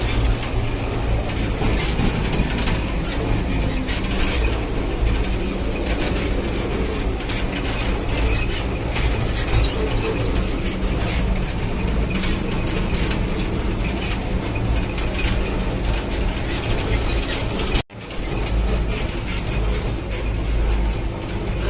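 A 45-year-old combine harvester driving along a road under its own power, its engine and running gear giving a loud, steady, continuous rumble and rattle throughout, with no talk.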